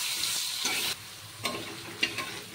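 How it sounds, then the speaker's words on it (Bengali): Cut potatoes fry in hot oil with a soft, continuous sizzle, broken by a few sharp clinks and scrapes of stirring in the pan, close and fairly quiet. "তো সব আলুগুলো আমি তেলে দিয়ে দিলাম। এবার আলুগুলোকে ভালো করে ভেজে নিতে হবে।"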